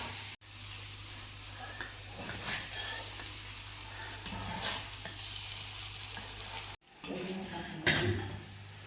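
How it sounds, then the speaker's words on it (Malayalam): Cassava fries in a pan as it is stirred, giving a continuous loud sizzle with scraping strokes and a couple of abrupt cuts in the sound. "ഇനി ഇത് നമ്മൾ കപ്പ ആഡ് ചെയ്തിട്ടുണ്ട് ഇനി ഇത് ഇളക്കി"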